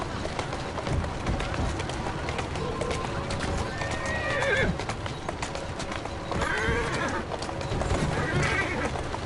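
A horse in Assassin's Creed Syndicate whinnies while its hooves clip-clop along a street, with a rider's voice talking over the steady hoofbeats and ambient city noise.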